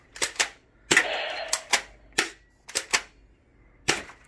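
An LM Kids pump-action shotgun gel blaster fires at targets: about nine sharp snapping shots with pauses between, one followed by a brief rattling pump, close and alone without speech.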